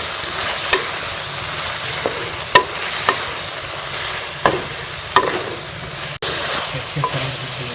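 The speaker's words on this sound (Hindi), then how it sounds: "अब हम इसमें ये फ्राई किया हुआ चिकन शामिल कर लेंगे। इसे अच्छी तरह से इसमें मिक्स कर लेंगे।" Fried chicken stirred into a sizzling sauce in a pan for spicy Chicken 65, a continuous close sizzle broken by the scrape and clack of a spoon every second or so, with no talk.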